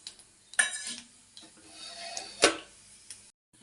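Chana dal and urad dal are dropped into hot oil and ghee with popping mustard seeds, giving a few sharp crackles and clinks of a spoon against the pan over a faint sizzle.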